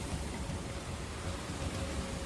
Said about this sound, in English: you can hear the wind. Just a little bit of rain coming through.